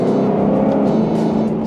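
A 2020 Ford Mustang Shelby GT500 with a supercharged V8 growls at a loud, steady high rev, heard up close with a constant engine roar and whine and no talking.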